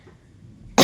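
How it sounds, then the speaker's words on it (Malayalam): A person with a days-long cough and throat infection gives a single sharp, loud cough right at the end, after near silence. "നല്ല ചുമയാണ് കേട്ടോ"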